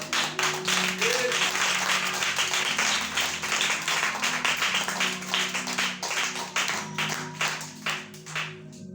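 A church congregation claps in a steady rhythm, loud and sustained, over low music tones and crowd noise.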